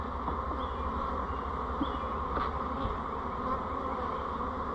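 A steady, dense hum of many honey bees buzzing close by, continuous and even throughout with no voices.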